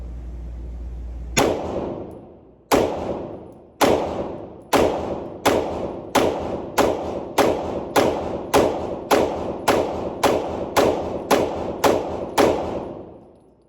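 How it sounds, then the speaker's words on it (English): A full magazine fired from an MPA DS9 2011 Commander 9mm pistol: loud, sharp gunshots, a few spaced shots at first and then a quick steady string of about fifteen rounds, each with a short decaying echo, no talking. "Now we're going to shoot this other mag."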